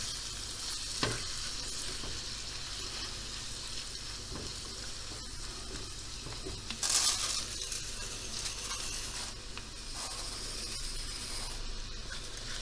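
Steady sizzling of vegetables and vermicelli sautéing in a pan with salt, black pepper and red pepper flakes, a continuous hiss broken by occasional scrapes and stirring clinks.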